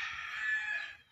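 A single hen gives one clear, drawn-out call lasting about a second, close and fairly loud against a quiet background.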